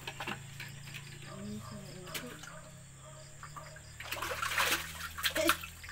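Water drawn from a mountain well pours and splashes in a flowing rush, building louder toward the end, with insect chirps faintly behind it.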